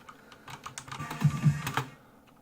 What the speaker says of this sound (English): So yeah, sounds like that.